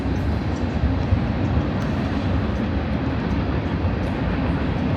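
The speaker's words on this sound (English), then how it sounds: "You guys hear the train going by?" Continuous loud, low rumble of a train rolling past in West Texas, steady and unbroken throughout with no voices.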